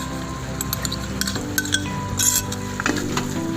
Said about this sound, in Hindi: अब इसे फेंट के मिक्स करके इसे गोश्त में मिक्स कर दूँगी